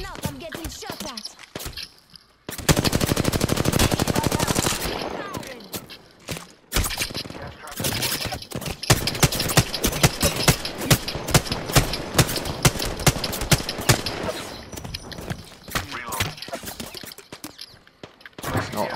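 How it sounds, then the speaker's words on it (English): Gunfire in Apex Legends: a dense burst of automatic fire comes first, then many sharp shots in rapid runs, loud and close, with a player speaking briefly between volleys. "Listen up, I'm getting shot at."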